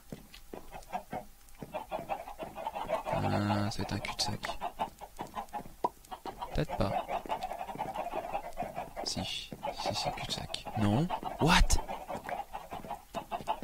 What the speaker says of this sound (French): Il y a beaucoup de poulets, putain.